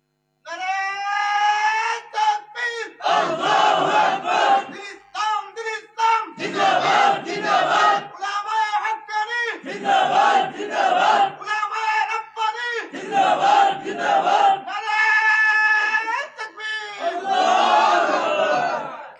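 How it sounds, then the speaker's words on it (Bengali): A large religious gathering chants the takbir in loud, rhythmic group shouts, a leader's call answered by the crowd in repeated bursts with short pauses between. "একটু জোরে সুরে তাকবীর দেন, নারে তাকবীর।"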